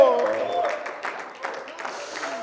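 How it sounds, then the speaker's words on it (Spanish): A church congregation applauding for the Lord, a steady wash of many hands clapping at moderate volume, with a voice speaking over it near the start. "Dele fuerte ese aplauso al Rey de Reyes, Señor de Señores"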